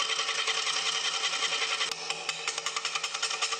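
A lathe turning a large walnut wood disc while a tool contours its outer edge, a loud steady whirring drone with rapid rhythmic chatter and brief scraping bursts.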